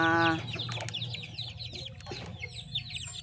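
Domestic chickens cluck and chatter in a close, busy flock, with short overlapping calls running throughout against steady low background noise.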